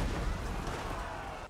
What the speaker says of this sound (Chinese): 哎呀，他有个投石机，